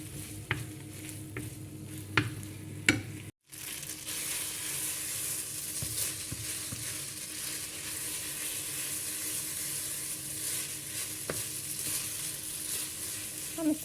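Bacon sizzles and fries steadily in a pan for pasta carbonara, a continuous close crackle after a few clinks of utensils at the start, with a brief gap early on.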